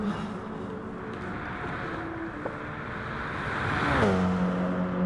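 A Porsche 919 race car in GT Sport at La Sarthe drones along with an uneven engine note, then a tonal whine swells and drops near the end, faint and steady beneath wind-like noise.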